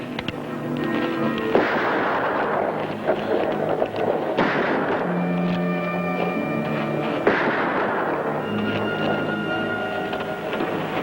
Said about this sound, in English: Get a bead on it and keep shooting till you hit it.